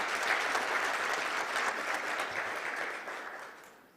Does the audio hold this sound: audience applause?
yes